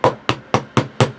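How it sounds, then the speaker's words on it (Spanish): Five sharp metallic hammer taps on transformer laminations in an even, quick rhythm, close and clear with no talking. "Igual hay que presionarlas con un martillo"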